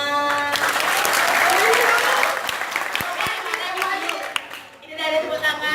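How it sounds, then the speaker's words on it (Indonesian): Audience applause at a Balinese Bondres Janger school performance in Denpasar, loud broadband clapping that fades midway, with a voice and tonal music emerging near the end. "Ayo kita tadi tepuk tangan."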